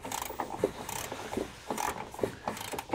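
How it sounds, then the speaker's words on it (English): A ratchet with an 18 mm socket backs out the tow hook bolts on a 2021 Nissan Rogue Sport during a trailer hitch install, making close, quick bursts of clicking in an uneven rhythm. "We'll remove those with an 18 millimeter socket."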